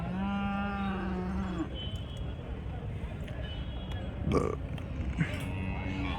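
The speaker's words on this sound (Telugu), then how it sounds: "జెర్సీ దూడ అన్నీ ఆడదూడలు ఇవి." Jersey heifer calves at Chintamani cattle market give a clear, loud drawn-out moo up front, followed by market bustle and people talking, with further shorter calls breaking through.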